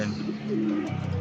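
Racing pigeons returning to their loft after a summer race from Talavera, Nueva Ecija, give soft, low cooing calls close by, with a murmuring voice faintly in the background.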